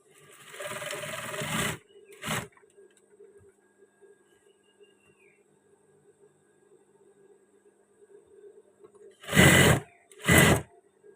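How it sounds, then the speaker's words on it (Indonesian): A sewing machine stitches batik fabric in short bursts: a loud close run of about two seconds, a brief burst, a long quiet pause with a faint hum, then two more short bursts near the end. "Sekarang kita jahit pas yang satunya."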